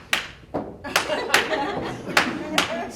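Bursts of hand clapping at a 2016 health action partnership summit talk, sharp rhythmic claps repeated about every half second, fairly close, with a little voice in the background.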